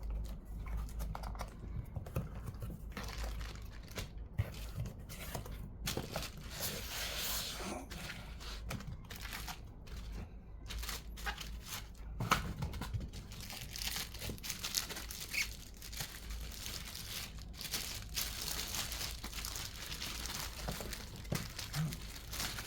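Packaging for a Ruby E-5011 TV soundbar being unboxed, with close crinkling plastic, tearing and rustling cardboard handling in irregular bursts throughout, no talk.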